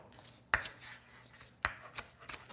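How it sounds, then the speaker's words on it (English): Green onions are quickly chopped with a knife on a cutting board for a meatball mix, with a few crisp, sharp knife strikes spaced apart over a quiet kitchen background and no talking. "I've got some yummy, beautiful green onions that I'm going to give a nice quick chop to"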